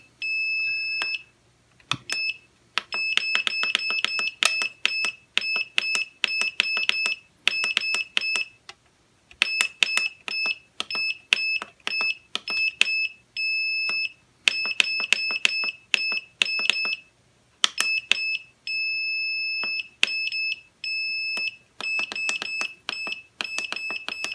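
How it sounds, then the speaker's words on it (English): Rapid high-pitched electronic beeps chirp in repeated bursts throughout, separated by short pauses, from the button tones of a Turnigy 9X radio control transmitter. "And don't mind the beeps, they're a little annoying."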